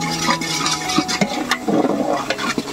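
A spoon scrapes and churns through about three kilos of mutton curry in a pot at a nighttime forest cookout, giving soft irregular stirring swishes, wet gravy sounds and occasional metallic clinks, close and fairly quiet.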